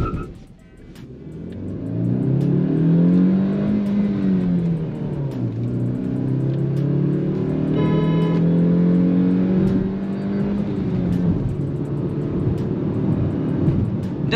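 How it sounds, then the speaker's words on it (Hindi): A Maruti Suzuki Grand Vitara with a 1.5 litre naturally aspirated smart hybrid engine revs up toward 5000 rpm, its steady rising drone swelling and holding loud and close for several seconds without talk. "Raving till 5000 RPM, let's go."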